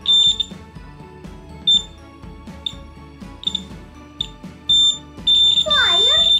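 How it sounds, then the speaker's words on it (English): Electric buzzer on a homemade steady-hand wire game, sounding in repeated short high-pitched beeps each time the loop touches the straight wire, then a longer continuous buzz near the end, over a low background hum. "if we touch it, this buzzer starts working, this buzzer."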